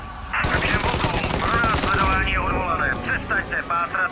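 Gunfire in Mafia Definitive Edition rattles in rapid bursts close by, mixed with shouting voices and game chatter, with a few sharper separate shots near the end.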